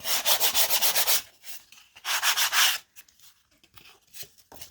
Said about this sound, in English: take a fine grit sandpaper, sanding block, whatever you have